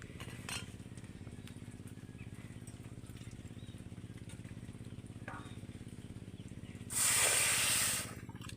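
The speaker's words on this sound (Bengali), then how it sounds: "এবার এই বাটির মাপে এক বাটি জল দিয়ে দেবো" Water is poured onto sugar in a kadai to make syrup: a loud rushing hiss lasting about a second, standing out late over a steady low background hum.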